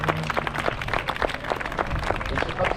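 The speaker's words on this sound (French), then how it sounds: "On peut les applaudir s'il vous plaît." An audience at a wedding applauds a newlywed couple with steady, moderately loud clapping, mixed with murmuring voices throughout.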